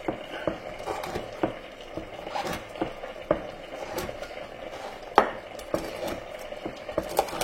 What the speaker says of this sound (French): Là, j'ai coupé 2 tranches de pain. Hop, on va couper ceci des cubes.